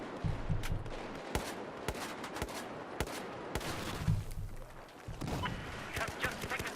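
Rapid bursts of gunfire in a Battlefield 4 rooftop firefight, with sharp close shots and frequent cracks over a constant rumble of battle, spread throughout.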